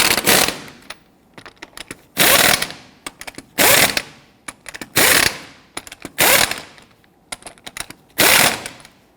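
Pneumatic impact wrench or ratchet snugging the front upper control arm bolts on a 2006-2010 Hummer H3 in a crisscross order, heard as about six loud, separate bursts of rattling hammering, each roughly half a second, with quieter clicks between them.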